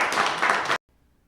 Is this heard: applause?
yes